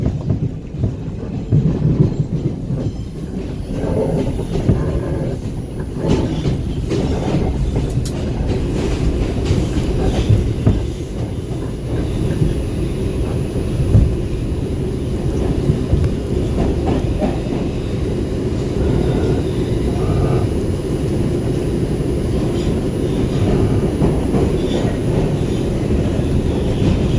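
A New York City #2 subway train runs through Brooklyn with a loud, continuous rumbling roar and rattling wheel clatter that holds steady throughout, heard from on board.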